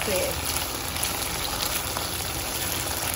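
Boneless chicken pieces, cut small, sizzle steadily in a pan for a spicy pepper chicken dish, a continuous broad hiss with faint bubbling and no pauses.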